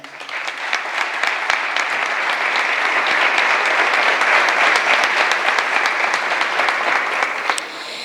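A hall audience applauds at a tribute ceremony honouring the founders of the Teatro Cervantes, with loud, dense, steady clapping that holds for about seven seconds before trailing off.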